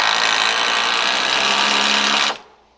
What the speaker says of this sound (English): So he's putting these 6-inch structural screws down from the top down into the upright.